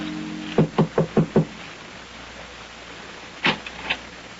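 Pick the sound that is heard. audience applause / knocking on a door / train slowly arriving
knocking on a door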